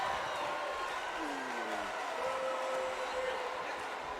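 Wrestling arena crowd in the WWE 2K18 video game roars in a continuous wash of cheering and noise, with a commentator talking over it.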